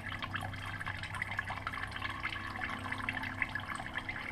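Used engine coolant drains from a vehicle into a container inside a hot, metal-sided shed, making a steady watery trickle with scattered drips that continue evenly throughout at a moderate level, with no talking.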